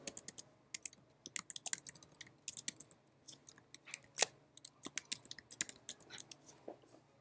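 Fingers type a website address on a computer keyboard, a quiet, close patter of quick key clicks in irregular bursts with brief pauses and one louder clack midway.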